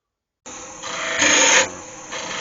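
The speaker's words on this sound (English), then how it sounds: "So just rolling the chisel over, lift the handle, and then that will give you that nice" A wood turning chisel rolled over to cut a curved edge on a Christmas bauble spinning on a lathe, a steady loud rasping hiss that swells in the middle and eases off, close up.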